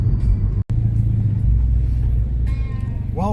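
A car rolls slowly into the annual Fenelon Falls, Ontario car show and swap meet, its engine a low steady rumble close by, with a brief dropout and some faint background sounds near the end.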